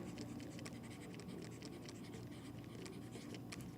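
Marker writing on a board during a geometry lesson, with continuous close scratchy strokes in quick short bursts and no speech.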